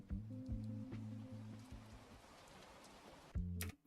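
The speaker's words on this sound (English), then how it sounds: "right after that break just there where the rain got really loud" Rain sound within a music track, a hissing wash of falling rain beneath low, pulsing synth bass notes that drop out, leaving the rain alone before the bass returns.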